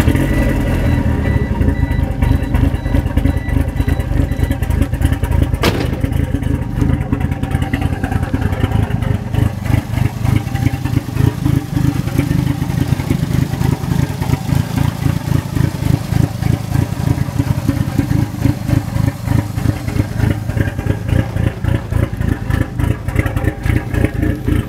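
A Spyder fitted with a 4G63 engine runs steadily close by, a loud, rough, pulsing idle that keeps going throughout with no talk.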